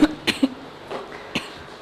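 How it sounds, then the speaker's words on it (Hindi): A woman coughs in several short, sharp bursts, two quick ones followed by a third, then softer throat sounds and one more cough, close and clear over a quiet background during a senior citizens' exercise session. "मैंने कहा जरा आप खांस ले जरा तरीके से।"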